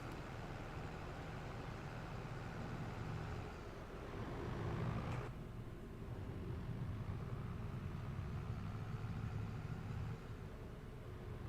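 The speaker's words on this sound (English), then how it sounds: "We'll get the bad boy tractor out, and then we'll start tedding right behind him." A tractor engine drones steadily while tedding hay in a farming video game, a low continuous rumble with a brief louder swell midway, heard alone.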